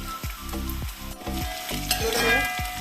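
Koorka (Chinese potato) and meat frying with ginger are stirred in a hot pan, with steady sizzling under a quick series of rhythmic scraping strokes, close and fairly loud.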